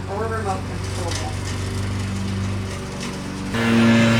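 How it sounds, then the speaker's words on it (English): A lawn mower drones steadily outside while a dishwasher runs indoors, a continuous loud mechanical hum under a voice speaking near the start, rising slightly louder toward the end. "they're mowing my lawn and I have my dishwasher on, so it's as loud as possible"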